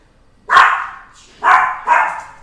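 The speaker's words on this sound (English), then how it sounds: "Here comes the dog barking." Three loud, close dog barks, one then a pause, then two in quick succession, with nothing else around them.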